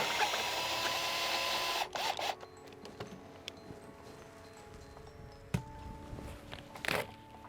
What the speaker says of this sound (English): So I'm just going to remove the hose.